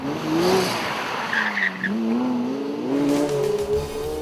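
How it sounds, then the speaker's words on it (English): A Lamborghini Murcielago LP640 V12 roars loud and close, its exhaust note rising and falling through revs with a brief tire squeal amid the engine howl. "The exhaust note is the single most heroic sound in the entire universe."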